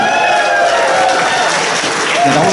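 Audience applause at BronyCon right after a birthday song, a steady dense wash of clapping at close range with some voices mixed in throughout.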